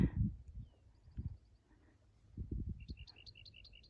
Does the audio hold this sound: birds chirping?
yes